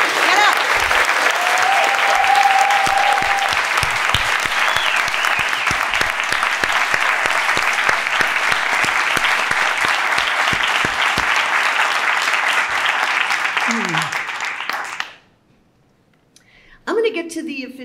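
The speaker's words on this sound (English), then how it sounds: "would you please stand up so we can applaud you?" Loud, sustained audience applause at a memorial celebration of life, steady dense clapping with some cheering for about fifteen seconds before cutting off abruptly, followed by a brief silence and a little noise.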